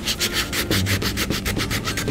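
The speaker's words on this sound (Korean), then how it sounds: "목심 박아 놓은 곳을 평면과 이렇게 매끄럽게 이렇게 사포질을 해주시면 되고요" Sandpaper rubs rhythmically back and forth over inserted wooden dowels on a small two-drawer wood kit, smoothing them flush with the surface in quick, close, even scratchy strokes, with no voices.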